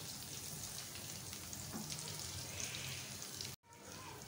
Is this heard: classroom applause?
no